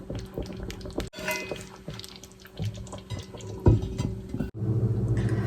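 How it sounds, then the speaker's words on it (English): Smothered chicken in onion gravy simmering in a skillet, giving a soft, bubbly liquid texture with faint pops and clinks and a low steady hum beneath; no talk. "Turn your skillet down on low and just let it simmer."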